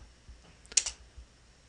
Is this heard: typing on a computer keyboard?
yes